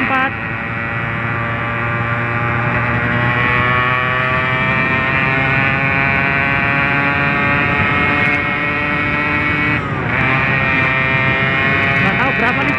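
Older two-stroke motorcycle ridden on light throttle, a steady buzzing engine drone heard from the saddle, with a brief dip as a gear changes.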